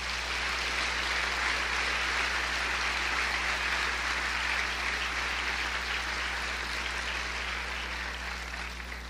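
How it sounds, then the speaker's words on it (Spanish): A church congregation applauds steadily for several seconds in a dense, even wash of clapping over a low background hum, with no break. "Denle otro aplauso al Señor."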